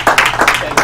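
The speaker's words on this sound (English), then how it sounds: "So let's all clap for ourselves," Audience applause at a school board of education meeting, a short burst of fairly loud, dense clapping from a room of people.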